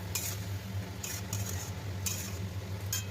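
A utensil scrapes and stirs jackfruit and potato curry with prawns in a pan, producing soft rhythmic scraping strokes about once a second over a quiet, low simmering hiss.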